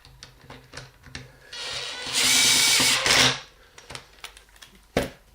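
Power driver tightening Torx 20 screws on the lid of a Kirby Avalir vacuum, a short whirring burst of about a second and a half, close, with clicks and handling before and after.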